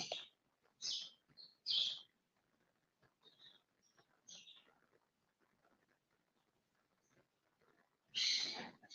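Pet birds kept indoors give scattered squeaky chirps and squawks, a few quick calls early on, quieter twittering through the middle, then a loud final squawk.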